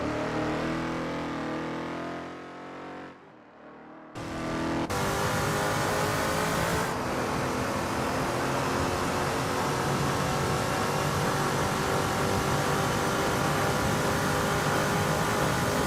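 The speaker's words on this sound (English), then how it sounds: "Nils Shepard is driving through Liukop Bend." A Lola T70 MkII Spyder race car engine in a racing video game at Kyalami, a loud continuous engine roar that dips briefly as it lifts off, then pulls hard again at high revs without any talking.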